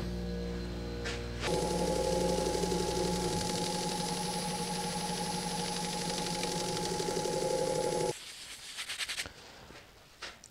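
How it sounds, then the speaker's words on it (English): An elm burl platter spins on a woodturning lathe, the motor giving a steady loud tonal hum for most of the stretch before cutting out and leaving a quieter ringing spin-down with scattered light noises. "Then I can give it a little buff up."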